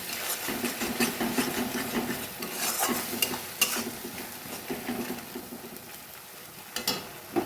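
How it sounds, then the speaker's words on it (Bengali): A poppy seed, green chilli and tomato paste is mixed in a frying pan for a pointed gourd dish, with rhythmic scraping strokes over a soft sizzle and a few sharper knocks. There is no speech. "এবার সমস্ত কিছু ভালোভাবে মিশিয়ে নেব।"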